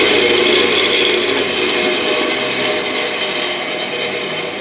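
A 14-inch bandsaw motor with no brake coasts down after switch-off, a loud, close, steady whirring hum that slowly eases in level over several seconds with no voices.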